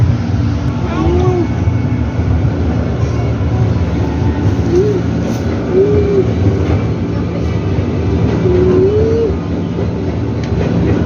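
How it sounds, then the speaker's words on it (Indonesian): Ride aboard a Jakarta Commuter Line train heading toward Jakarta Kota station: a steady, loud rumble of the moving carriage fills the whole stretch, with faint voices and brief squeal-like tones drifting over the constant interior noise. "naik kereta sambil lihat pemandangan"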